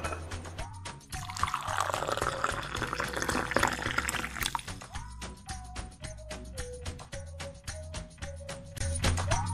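Brewed tea being poured out for a tea tasting, several separate pours of liquid into cups, each a close splashing trickle that rises in pitch as the vessel fills, with short clinks and pauses between them.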